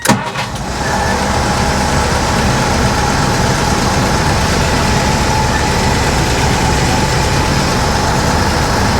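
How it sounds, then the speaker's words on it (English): A Willys Jeep engine, its exhaust leak just repaired, cranks and catches at once, then settles into a steady, even idle heard up close, with no talking. "So let's fire it up, and we should have a leak-free, nice, quiet operation."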